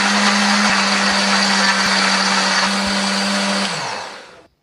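An electric blender grinds shallots, garlic and red chilies with a little water into sambal paste, a loud steady whirring roar for several seconds before the motor winds down and stops.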